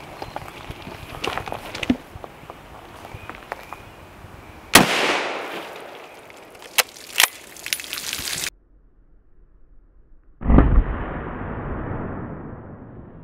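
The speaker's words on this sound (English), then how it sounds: "We'll be shooting some soft tip 308 out of this." Soft-tip .308 rifle rounds fired from a Steyr Scout at a rolled-up carpet outdoors, with two sharp, loud cracks spaced a few seconds apart, each followed by a brief ringing tail against background noise.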